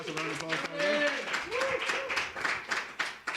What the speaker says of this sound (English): Massive round of applause for them.